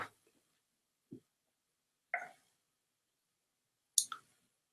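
A computer mouse gives a few sharp, isolated clicks spaced apart in a quiet room, close and crisp with silence between them.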